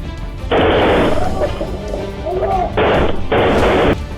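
Three bursts of rapid automatic AK-47 rifle fire ring out inside a jewelry store, loud and close, with a voice heard faintly in the gap between the first and second.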